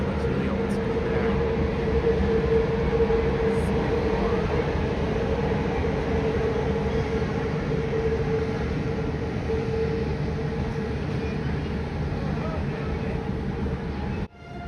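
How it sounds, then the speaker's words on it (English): An old Romanian Railways train stands at a station, giving off a steady loud rumble with a constant tonal hum from its engine or equipment, continuous until it cuts off abruptly at the end. "That train looks really old school there."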